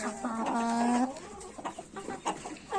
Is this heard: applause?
no